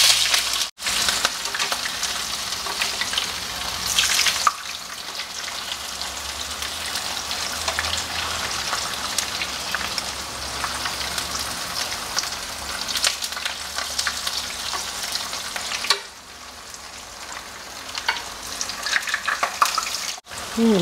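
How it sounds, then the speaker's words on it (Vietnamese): Vegetarian sausage lightly frying in a pan, a steady close sizzle and crackle of hot oil running throughout, with brief breaks and clatter as pieces are moved. "Mình chiên sơ chả."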